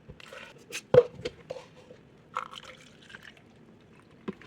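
Cold brew coffee pours over ice in short bursts with a few clinks and drips, quiet and close, no talking.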